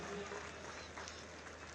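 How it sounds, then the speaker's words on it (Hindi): An outdoor audience at a foundation-day parade ground event in Uttar Pradesh claps for uniformed PAC troops, a moderate, steady patter of applause with faint crowd murmur. "जोरदार तालियों की गड़गड़ाहट से इन जवानों को आशीर्वाद दीजिए"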